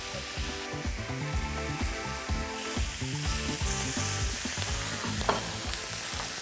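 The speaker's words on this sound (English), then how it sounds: "So I'm gonna sear the other side now." A lean steak sears on its second side in a hot pan, with a loud, steady, continuous sizzle and crackle filling the sound from start to finish, close up.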